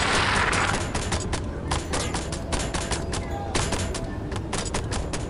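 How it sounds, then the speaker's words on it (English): Rapid bursts of gunfire from a horror video game as players shoot at a spider monster, loud and dense with repeated sharp cracks and thuds running through the whole stretch. "Each time he gets close and we shoot at him, he flinch."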